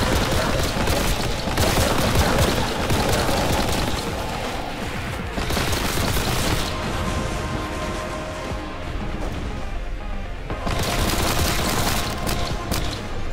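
Bolt gun fire in the Warhammer 40,000: Boltgun video game: dense, loud, almost unbroken volleys of shots mixed with booming impacts and crashes, continuing throughout.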